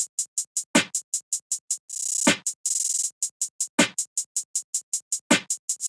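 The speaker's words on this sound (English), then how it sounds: "And that's basically all I did for this clap pattern" A hip-hop beat loops a steady clap pattern: crisp, evenly spaced claps with heavier accented hits recurring about every second and a half, plus a brief sustained noisy swell.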